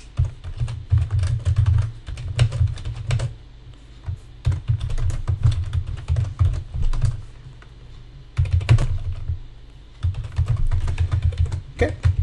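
Someone types code on a computer keyboard, quick close clusters of keystrokes in several bursts separated by short quiet pauses.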